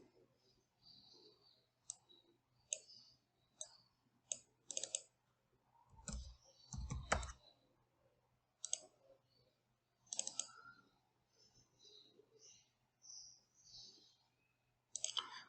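Computer mouse clicking while working in Matlab/Simulink, sharp close clicks scattered in ones and pairs with quiet gaps, plus a couple of louder thumps.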